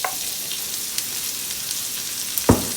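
Onions sautéing in a pan for a taco bake give a steady, soft sizzle of frying throughout, with a brief louder scrape or clatter near the end.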